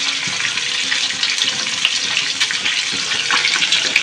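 Boiled, peeled eggs frying in hot oil with salt and turmeric for Bengali dim kosha, giving a steady, dense crackling sizzle with small scattered pops throughout.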